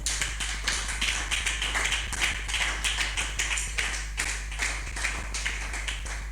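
A church congregation applauding together, dense steady clapping with rhythmic accents over a constant low hum, no voices.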